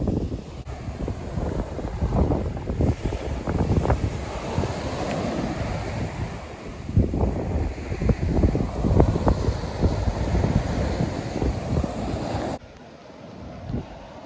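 Strong wind buffeting the microphone with waves surging on a stormy UK beach at night during a fishing session, a loud, gusty roar with rolling surf bursts that drops away abruptly near the end.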